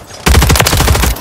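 Rapid automatic gunfire from Call of Duty: Modern Warfare 3 Ground War with an AMR9, a loud close burst of densely packed shots lasting about a second, with no talking.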